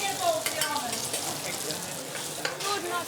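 Pork belly sizzles steadily in a hot pan in a busy restaurant kitchen during service, close and continuous, with light clatter and faint voices around it.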